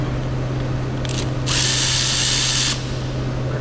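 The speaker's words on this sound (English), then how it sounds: "we can go ahead and take a socket, and we'll just remove" A socket wrench works on a Jeep Wrangler 4.0 engine part in a garage, a short ratcheting burst followed by a sustained loud whirring tool sound over a steady low hum.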